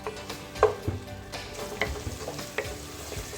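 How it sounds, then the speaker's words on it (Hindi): Tomatoes cook with ginger-garlic paste in a pan for rajma masala, giving a low, crackling sizzle with intermittent stirring scrapes and light taps nearby. "टमाटर मैंने अदरक लहसुन के पेस्ट के साथ थोड़े से मैंने कुक होने दिए तकरीबन 3 मिनट के लिए"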